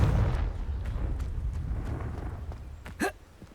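A Confringo blasting spell explodes in the video game Hogwarts Legacy: a deep, rumbling boom that slowly fades, followed by a short, sharp crack of a second impact near the end.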